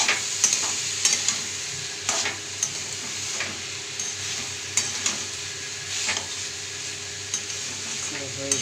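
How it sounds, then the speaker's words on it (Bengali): Bottle gourd and prawns cook in a pan with a steady sizzle, while a utensil stirs and scrapes in intermittent strokes close by. "এটাকে দিয়ে ভালো করে নেড়ে নেব"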